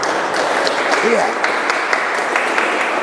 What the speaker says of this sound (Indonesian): Berikan sorak-sorai buat Tuhan kita